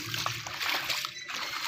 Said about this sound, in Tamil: அங்கே இருந்து தண்ணி வருது கோயில்கிட்ட இருந்து